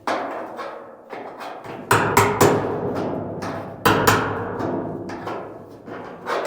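A hammer lightly taps rusty sheet metal on a Chevy C10 truck roof in a series of irregular metallic knocks and thuds, with a few louder, sharper strikes, close up and with no talking.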